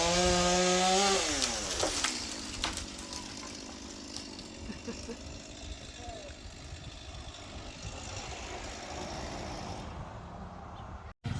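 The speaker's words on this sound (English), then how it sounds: "how to use his new chainsaw." A new chainsaw cutting down trees on a farm: the engine revs high and then falls for about two seconds, then a steady, gritty cutting drone runs on with a rasp of wood. It stops sharply near the end.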